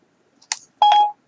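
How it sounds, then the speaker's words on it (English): A phone gives two short electronic beeps, a brief chirp and then a longer tone, loud and close, with silence around them. "Shut up, phone."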